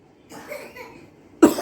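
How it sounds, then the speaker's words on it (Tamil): Boys cough and splutter close by, starting with faint breathy sounds and ending in one sharp, loud cough. "அவன் இருமுறானுங்க அவனுங்க."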